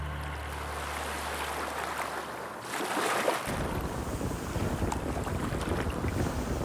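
A small private boat motors over a smooth sea off Crete, its low engine drone steady under heavy wind rush and splashing water, the engine hum fading after a few seconds as wind and surf noise take over.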